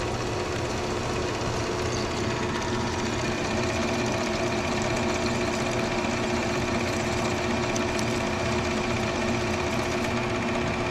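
Lathe carriage running under auto feed while a tenderizer handle shoulder is machined, giving a steady continuous mechanical hum and whir with no pauses, moderately loud and alone.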